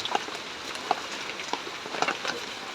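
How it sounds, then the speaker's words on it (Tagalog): Light rain patters in a sudden warm shower, a soft steady hiss with a few sharper drops landing on a surface at irregular moments, fairly quiet and fairly close. "Bigla tuloy umulan mga boss na yun."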